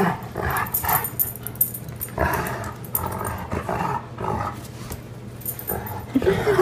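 Dogs growl and snarl playfully in repeated rumbling bursts, close and loud, with scuffling throughout.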